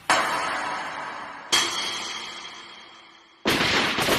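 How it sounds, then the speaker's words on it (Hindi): Three loud gunshots in the Hindi-dubbed animated cartoon Ninja Boy Rantaro, spaced more than a second apart. Each has a sharp crack and a long fading echo. "आपस में ही गोली चला रहे हैं।"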